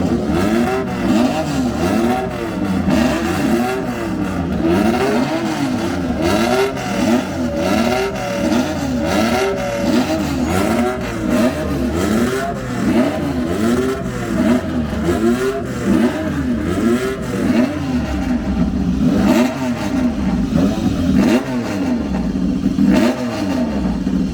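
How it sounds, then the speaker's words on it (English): Classic British racing motorcycle engine from the pre-1970s era revving hard and continuously at a classic racing event, loud and close with rapid rising and falling throttle blips and no talk. "the British motorcycle industry could also, up until the 70s, produce effectively noisy and fantastic bikes"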